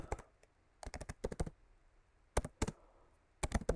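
A title being typed on a computer keyboard, with quick clusters of close, crisp key clicks separated by short quiet pauses.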